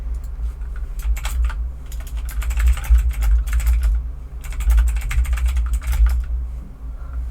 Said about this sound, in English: I'm driving on keyboard.